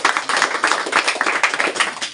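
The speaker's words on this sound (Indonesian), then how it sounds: "tepuk tangan untuk Andika." Applause for a student named Andika in a classroom, a steady dense clatter of many hands clapping close by, continuing evenly for a couple of seconds with no talk over it.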